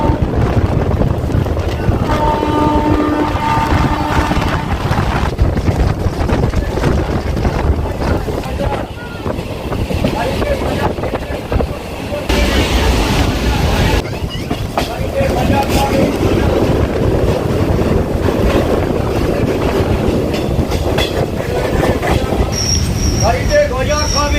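A Howrah to Sealdah local train runs along the line, giving a steady, loud rumbling and rattling drone that carries on without pause for the whole stretch.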